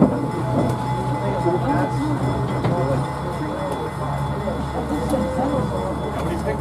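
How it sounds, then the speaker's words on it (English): A train rumbles steadily along the rails of the East Broad Top Railroad with a continuous low roar and faint rhythmic clatter, voices murmuring underneath. "first train ride since 2011. Here we go."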